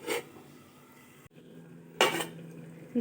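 A metal lid lifted off a cooking pan of drumstick chorchori, with a short clatter at the start, a brief scraping clank about two seconds later, and quiet pan sounds in between.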